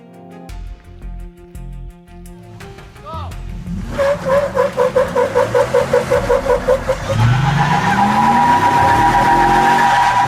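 An old Chevy's tires skid and squeal as it loses grip, loud and close, over a pulsing, straining engine that rises into a sustained, grinding screech.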